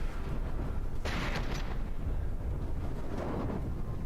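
Flak shells bursting in the naval combat game From the Depths, a dense rumbling barrage of booms with a sharper, brighter crack cluster partway through, steady and loud throughout with no talking.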